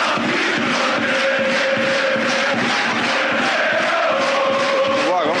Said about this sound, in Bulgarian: Чувате публиката на Локомотив Пловдив, която въпреки този резултат не спира с подкрепата за своите любимци.